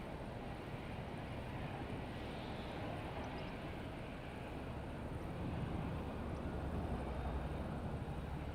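An EasyJet airliner departing Madeira Island Airport for Lisbon in strong wind, a faint, distant broad jet roar that swells slightly toward the end.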